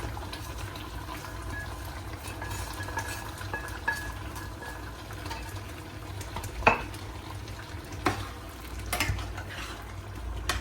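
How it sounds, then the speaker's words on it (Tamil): Fried paneer cubes go into a tomato curry in a pan and are stirred, giving a low simmering bubble with soft scrapes and a few sharper knocks of the spoon against the pan, close up and without speech. "ஸோ இப்போ நாங்கள் இந்த பன்னீரை இதுக்குள்ளே போடுவோம் பொரிச்சது"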